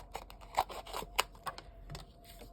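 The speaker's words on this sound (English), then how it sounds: "I'm going to cut this just a little bit" Scissors snip through card stock in a series of short, crisp cuts, close up and fairly quiet, with a faint background hum and no talking.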